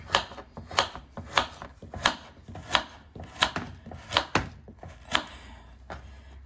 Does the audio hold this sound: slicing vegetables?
yes